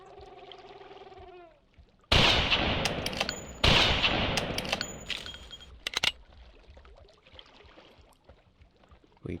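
A pistol fires in Carnivores Jurassic Park Revolution, two loud close shots with sharp onsets followed by a ringing metallic tail and a few smaller clicks, over quiet outdoor ambience with faint birdsong at the start.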